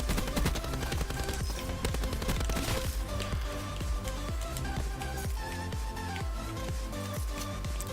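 Rapid automatic gunfire from a Black Ops 4 video game weapon, dense crackling bursts of shots rattling steadily for several seconds with no talk.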